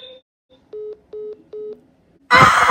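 Three evenly spaced telephone keypad tones beep in quick succession, each short and clean, before a sudden loud burst of noise cuts in at the end.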